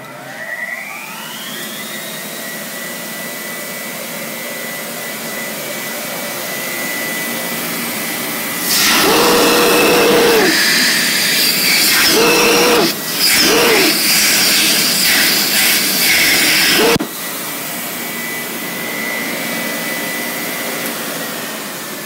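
A 1920 Spencer Turbine vacuum motor switches on with a loud broadband whir, drops and surges several times, then cuts off abruptly, leaving a low steady background hum.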